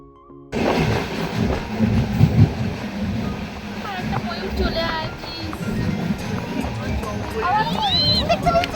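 A train runs through hills and forest in the Dooars and Kalimpong area with a continuous rumbling, rattling roar and wind buffeting, loud and close throughout. A few faint squeaks rise near the end.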